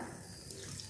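Water runs into a cooking pan while masala powders are being sautéed for a chapathi side dish, a short, steady close splash with no talk.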